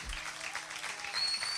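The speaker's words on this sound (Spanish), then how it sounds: "Un fuerte aplauso." An audience applauds a percussionist at a live music session, a brief burst of dense clapping that swells slightly toward the end.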